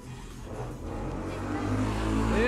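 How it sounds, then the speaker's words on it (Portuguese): Motorcycle in the mobile game Arena of Valor speeds past, its engine rising in pitch as it accelerates hard, growing louder toward the end. "Eita, que a moto passou arrancando tudo."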